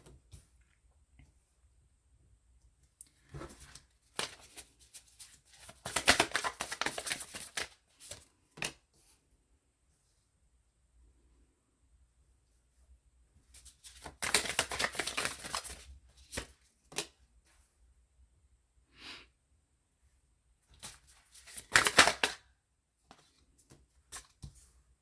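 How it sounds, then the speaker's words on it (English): A tarot card deck being shuffled in bursts, with riffles and slides of the cards close by, separated by quiet pauses. "Let me shuffle this deck and get all the cards out"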